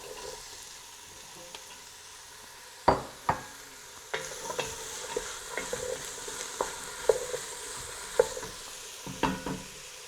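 Chunks of butternut squash go into a pot for minestrone soup, with a soft sizzle and a run of irregular scraping and clacking strokes as the mix is stirred.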